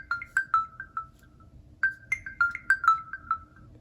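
A Windows Phone ringtone on an unreleased Nokia Lumia prototype handset chimes in two bursts of bright, bell-like plucked notes separated by a brief silence, close and clear with no voices.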